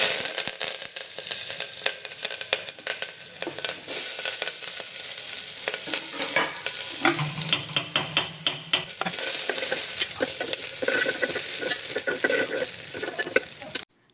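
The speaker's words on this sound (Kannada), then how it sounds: "ಒಗ್ಗರಣೆಗೆ 1/2 ಟೇಬಲ್ ಸ್ಪೂನಷ್ಟು ಜೀರಿಗೆ ಹಾಕ್ಕೊಂಡು ಚೆನ್ನಾಗಿ ಫ್ರೈ ಆದಮೇಲೆ" Cumin seeds for tempering sizzle and crackle steadily in hot oil, with occasional stirring scrapes, for a kitchen batch of palak sambar; the frying stays loud and continuous throughout, with no talking.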